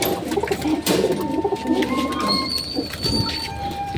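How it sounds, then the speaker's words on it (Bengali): Pigeons cooing on a rooftop, a soft continuous chorus of low, throaty coos from several birds nearby, with light rustling and a few higher chirps mixed in. "এই যে পায়রাগুলোর কাছে চলে এসেছি"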